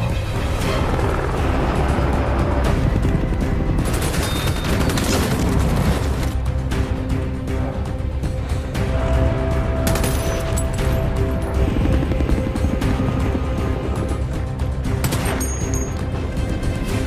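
Dense, loud action-scene din from the film Kandahar: helicopter rumble under bursts of gunfire and booming impacts, continuous and chaotic throughout.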